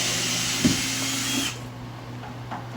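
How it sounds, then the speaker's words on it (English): A power drill backs screws out of the side of a pinball machine's wooden shipping crate, a loud steady whine up close that stops partway, leaving quieter room noise and faint handling. "taking the screws out all on the sides here"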